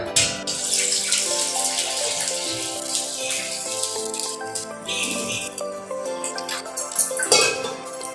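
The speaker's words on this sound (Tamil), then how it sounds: "இப்போ தேவையான அளவு தண்ணி ஊற்றிடலாம்" Water pours steadily into a metal pot for several seconds while making neem flower rasam, a bright splashing rush with a few knocks near the end.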